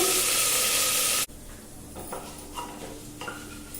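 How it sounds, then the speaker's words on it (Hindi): Toor and masoor dal with cumin frying in a pan, a loud burst of sizzling that cuts off abruptly, then quieter crackle with spoon scrapes and stirring strokes, close by. "दाल को अच्छे से फ्राई कर ले रहे हैं।"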